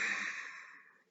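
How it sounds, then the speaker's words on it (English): One slow, deep breath is drawn and released. The airy exhale is close and quiet and fades out gradually. "Take a deep breath right now."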